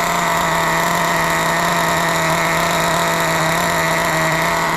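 A Kyosho NEO 3.0 nitro RC car engine runs during break-in, smoking, with wheels not turning, producing a loud, steady high-pitched buzzing drone for several seconds without talk.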